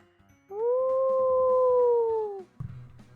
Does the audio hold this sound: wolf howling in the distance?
yes